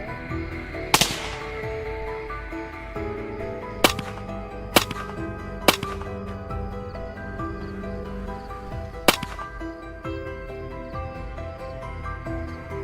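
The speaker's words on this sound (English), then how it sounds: "Gunfire continued to ring out steadily in the quiet space of the night" Rifle shots during a nighttime wild boar hunt, five sharp, loud cracks spaced irregularly across a quiet stretch, each ringing briefly over a steady musical background.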